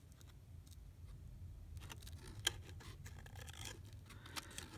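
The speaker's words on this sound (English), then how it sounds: "you want to turn your paper and not your scissors" Scissors cut paper along the lines of a dress pattern, a quiet run of soft snips and scrapes with a couple of sharper clicks as the paper is turned.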